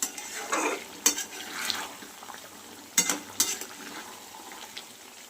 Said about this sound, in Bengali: আমি চিকেনটা ভালো করে কষিয়ে নিচ্ছি। বেশ পোড়ো পোড়ো করে কষিয়ে নেব।